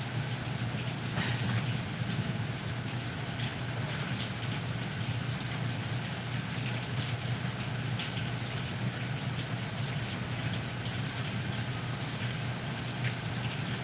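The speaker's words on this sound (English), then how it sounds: "It's raining." Steady rain falls without a break, an even, hissing wash of drops that stays constant and moderately loud, with no talk over it.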